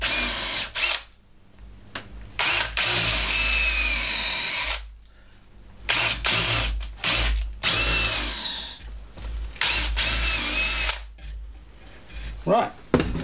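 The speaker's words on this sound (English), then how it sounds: "so we'll drill down now." A power drill bores into a wooden crossbow stock in repeated loud bursts, whining up and stopping several times with short quiet gaps and light handling clatter between runs.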